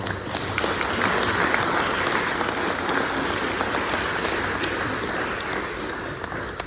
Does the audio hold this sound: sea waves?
no